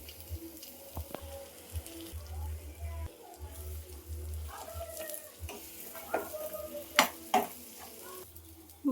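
Banana flower cooking in ghee with sugar in a pan, a soft steady sizzle with occasional stirring scrapes and a few sharper utensil knocks near the end, some faint speech.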